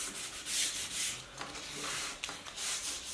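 Hand sanding old wooden furniture: repeated soft, raspy back-and-forth strokes in a steady rhythm, close up, with no voices.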